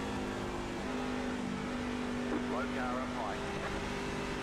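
A Chevrolet Silverado race truck in the iRacing simulator at Phoenix International Raceway drones steadily at high revs, with a continuous engine hum and faint surrounding race traffic, and a voice speaking briefly over it.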